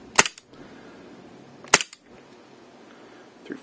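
Three sharp reports from an Elite Force 1911 airsoft pistol shooting 0.2 gram BBs, near and loud, each a crisp snap with a brief ringing tail, the second about 1.5 seconds after the first and a third cut off at the end.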